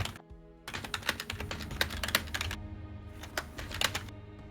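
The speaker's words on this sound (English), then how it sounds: "And Valerie, we hear you typing." Typing on a computer keyboard, a fast, continuous run of clicking keystrokes that breaks briefly near the start and again toward the end, close and fairly quiet.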